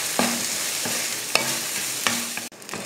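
Shallots and grated coconut frying in a pan, a steady sizzle punctuated by four or five sharp spatula knocks and scrapes, close up and without talk.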